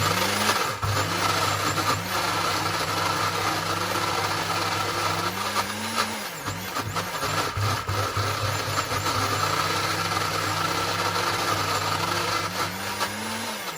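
An electric food chopper grinds meat into a smooth paste for meatballs, giving a loud, continuous motor drone that sags and recovers in pitch as the blades bog down under the load.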